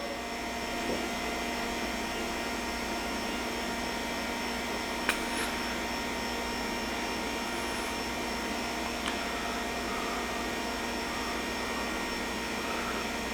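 Air is blown gently and steadily into an opening to clear out bugs hiding inside. A continuous even hiss with a faint whine runs throughout, broken only by two tiny clicks.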